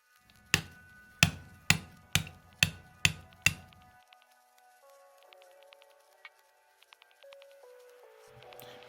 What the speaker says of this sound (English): Using a punch and hammer, tap the mainspring housing pin out of the magazine well.